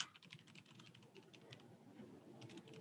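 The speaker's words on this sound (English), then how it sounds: "I have the noisiest keyboard on planet Earth. Everybody can hear me typing" Quiet clacking of a computer keyboard in a noisy home-office setting, a quick irregular run of keystrokes heard faintly over a muffled, low-level background.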